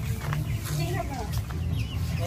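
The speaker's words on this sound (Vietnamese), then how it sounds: "Giờ cho gà vô nhà." Chickens cluck repeatedly while being herded into a house in a mountain village, the clucks scattered under near, ongoing conversation.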